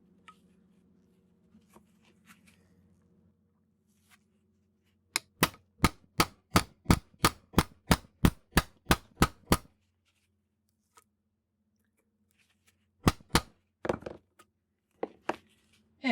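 Sharp metallic chisel blows cutting through a transformer, a fast run of about a dozen evenly spaced strikes followed by a pause and a few more scattered hits, close and loud in an otherwise quiet space.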